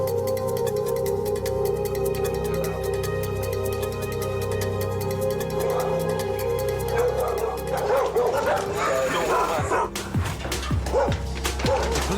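Six dogs guarding a gang property in Belize bark, yip and whimper under a steady background hum, with the barking growing busier and more chaotic toward the end as police try to get in.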